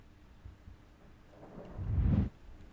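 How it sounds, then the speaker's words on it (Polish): Thunder from a storm outside a window, a low rumble that swells over about a second and then cuts off, fairly faint and alone. "O, słuchajcie, burza za oknem."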